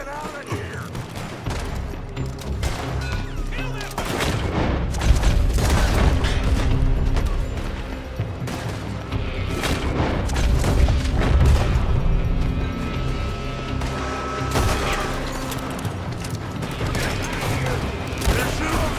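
Heavy gunfire in the Wild West game Red Dead Redemption 2, repeated sharp shots and volleys cracking throughout amid booms and clatter, loud and continuous over a long stretch.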